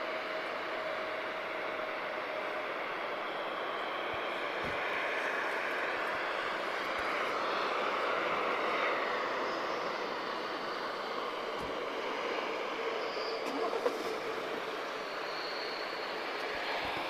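Swift Air ATR 72-500 turboprop at Lisbon Airport, a faint, distant, steady engine drone with a soft hum that swells gently and eases off again over the span, no talk.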